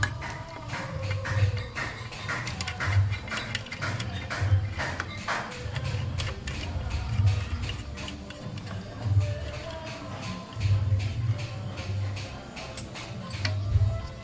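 A ratchet wrench tightens the lower nuts on a motorcycle push tracker bracket, giving repeated close clicking ratchet strokes in uneven bursts with metallic handling noises between them.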